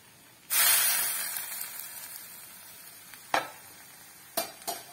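Mustard seed tempering is poured into a hot pan and bursts into a sudden loud hiss that slowly fades, followed by a few sharp spatters and clicks.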